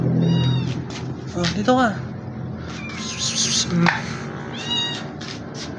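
A house cat meows several times, with short rising calls close by, mixed in with a person chatting and other background noise indoors.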